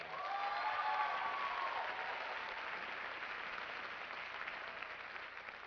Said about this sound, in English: Another round of applause for our Caribbean Student Association dance team